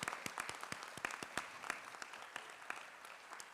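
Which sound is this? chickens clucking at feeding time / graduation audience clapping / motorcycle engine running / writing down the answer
graduation audience clapping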